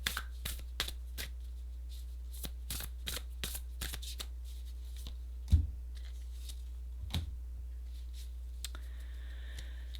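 Tarot cards shuffled and drawn by hand, heard as quick crisp riffles and flicks in an irregular rhythm, close and clear, followed by a couple of soft thuds as cards are set down.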